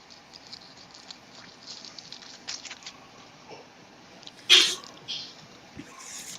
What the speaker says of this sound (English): sneezing his ass off